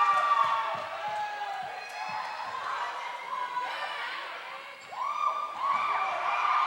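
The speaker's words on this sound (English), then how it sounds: "So the Laverne crowd pretty vocal here" A vocal La Verne home crowd at a college basketball game against Claremont-Mudd-Scripps shouts and cheers in a gym. Low rhythmic thumps come early, and the noise swells again near the end.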